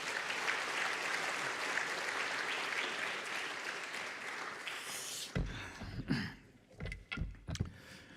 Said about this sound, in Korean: 우리 목사님 나오실 때 따뜻한 마음 우리 격려의 박수로 모시겠습니다.